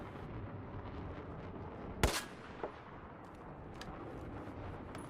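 An XM25 airburst launcher fires a single sharp shot in the video game Battlefield 4, followed by a smaller distant burst and faint crackles over a steady background rumble of battle ambience.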